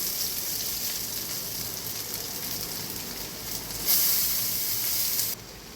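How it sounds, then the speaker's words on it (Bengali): Chowmein noodles hit the pan over fried onion, giving a steady rain-like hiss that swells louder for a moment near the end before dropping back. "পেঁয়াজ ভাজাটা হয়ে গেছে, চাউমিনটা এবার আমি দিয়ে দিলাম।"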